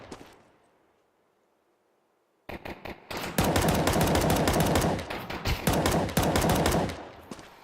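Glock pistol fire in a Counter-Strike match. A quiet lull gives way to a sudden, sustained burst of rapid, crackling shots that stays loud and dense, then eases slightly near the end, with no talk.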